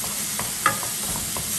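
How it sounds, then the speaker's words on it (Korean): Tomato base being stir-fried in a pan for a tortilla dish, with a soft steady sizzle and a few light scraping stirs, close and without talk. "토마토 베이스 한 스푼만, 제가 한 스푼 덜어놨거든요. 한 스푼만 넣어서 볶는데요"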